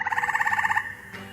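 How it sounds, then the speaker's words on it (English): A male frog gives a rapid, melodious pulsing trill close up during mating season, lasting under a second before cutting off into quiet. "the male frogs will let out a melodious trill during their mating"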